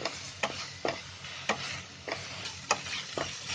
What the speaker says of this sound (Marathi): हे ना पेस्ट आहे ना 2 मिनिटं अशी चांगली फ्राय करून घ्यायची